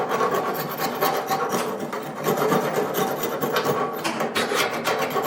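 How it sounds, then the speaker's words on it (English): Metal scraper rasping steadily on the stainless steel pipe of a wood-fired cookstove, a continuous close scraping with quick repeated strokes throughout; a voice speaks briefly near the start. "Let me see if I can make it shiny again by scraping."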